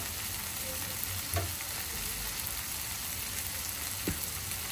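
Loitta dried fish fries in oil with an unbroken close sizzle, and a couple of brief scrapes and knocks come from stirring in the pan.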